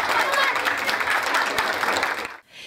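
Wedding guests applaud a young couple at a Turkish wedding celebration, a dense, steady burst of many hands clapping that continues loudly and then cuts off abruptly near the end.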